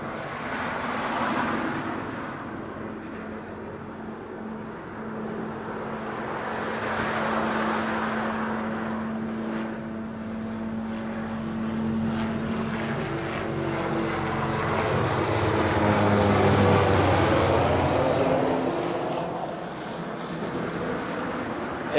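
A Delta Boeing 767 airliner arriving from LAX at Honolulu, its engine roar swelling and fading twice before building to a louder, steady rumble near the end, with broadband whine over a low drone.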